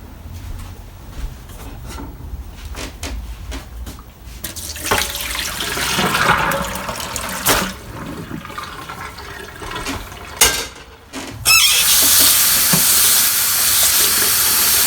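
Water runs from a faucet into a sink, cooling a just-dyed cotton-poly shirt, a rushing stream that builds and shifts as it hits the basin, ending in a loud steady gush.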